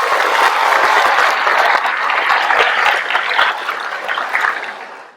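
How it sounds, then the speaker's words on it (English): Sustained audience applause at a high school graduation, a dense wash of many hands clapping at once, steady and loud before tapering off at the end. "Can I get a round of applause for that?"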